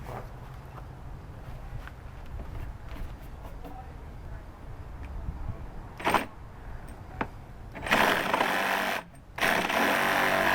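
A Craftsman power drill driving a screw into a table whirs up in a short burst, then runs in longer, louder stretches up close after quieter handling sounds and some talking.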